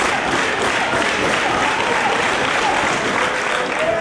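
A wrestling crowd at an ROH match between Joe and Kobashi cheers and applauds, with dense, continuous loud clapping and roar filling the arena throughout.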